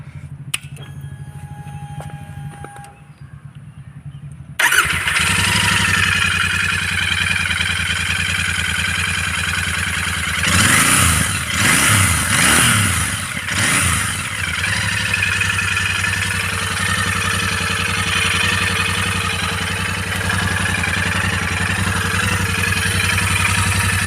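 A Royal Enfield Continental GT 650 motorcycle engine kicks into life and settles into a steady, throbbing idle, with a few revs midway, close and loud.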